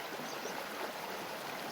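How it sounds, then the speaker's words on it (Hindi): Water of a stream flowing steadily along a route in Kyrgyzstan, a continuous broadband rush and trickle with no break, close by and even in level throughout. "जिस तरह पानी यहाँ से बह रहा है"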